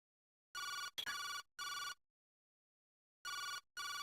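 A video game telephone rings loudly in five clean, evenly spaced electronic bursts, with a short gap in the middle, against complete silence.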